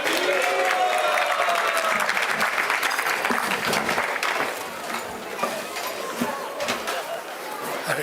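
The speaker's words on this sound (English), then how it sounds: "Actually, give another round of applause for Aniruddha Prabhu." A large crowd at a Hare Krishna temple anniversary gathering in Melbourne applauds warmly for about eight seconds, loud at first and then easing slightly, with some chatter mixed into the clapping.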